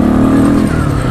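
A small motorcycle rides along a road at rush hour, its engine a steady, close buzzing drone with a slight drop in pitch partway through, loud and continuous with no talking.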